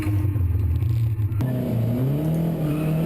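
USTCC touring race cars, including a Mazdaspeed 3, accelerate at Miller Motorsports Park, a loud engine drone climbing in pitch with a sharp shift partway through.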